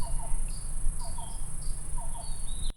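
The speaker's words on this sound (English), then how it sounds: "You hear that? Mm-hmm. It's Is it a cuckoo?" A black-billed or yellow-billed cuckoo calls softly at a distance in several short, repeated phrases, set against a steady high cricket drone in a woodland at night.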